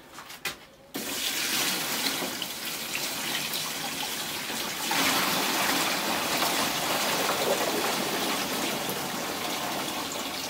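Salt water pours into a barrel of cabbage being pickled as sauerkraut, a continuous splashing gush that starts after a brief pause and runs steadily to the end.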